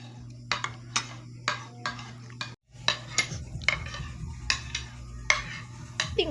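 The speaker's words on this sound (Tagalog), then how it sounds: "Patunog pa yan ng kutsara sa pinggan." A metal spoon clinks against a plate at a Jollibee meal, a dozen or so sharp, evenly spaced taps with one brief pause, loud and close over a low steady hum.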